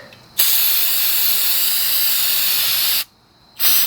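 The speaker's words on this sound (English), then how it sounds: "I'm going to spray down that carburetor real quick." Aerosol spray cleaner blasted onto the carburetor of a Predator 212 minibike engine: a long loud hiss lasting a few seconds, a short pause, then a second brief burst.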